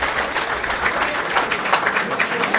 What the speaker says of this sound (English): Have a big applause for them